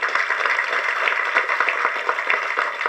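An audience claps for a song, a dense continuous patter of many hands at steady strength with no talk over it.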